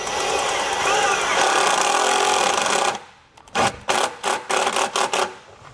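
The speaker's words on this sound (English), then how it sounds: "now we can run our tapper into our fender" A self-tapping screw is driven into the fender of a 2015 truck: a steady, loud grinding whir from the driver for about three seconds, then a run of short, choppy bursts as the screw bites and seats.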